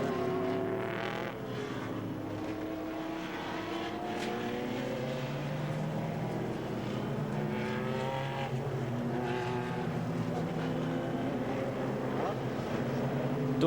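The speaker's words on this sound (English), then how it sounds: "And the cars roll." GT race cars at the 2004 World Challenge GT round at Lime Rock circuit drone and roar steadily at speed, engines rising and falling as they pass, under a commentator's talk.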